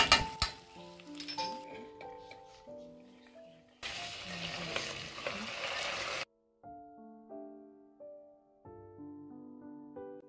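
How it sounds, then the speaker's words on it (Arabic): Metal utensil clinks and scrapes against a cooking pot while white beans are stirred, with short bursts of sizzling between tonal clinks, close and moderately loud. "ضروري كتحركوه مزيان لانه كيلصق في الكوكوط"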